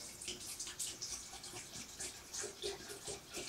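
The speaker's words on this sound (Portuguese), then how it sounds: "É só colocar agora a água e colocar para ferver." Water poured into a pot of herb leaves set to boil, a quiet close splashing trickle with small gurgling pulses.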